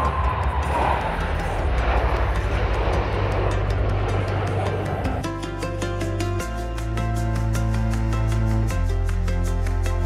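A loud, rushing roar from Blue Angels jets at an airshow shifts into a steadier, pulsing engine drone overhead, sustained throughout without talk.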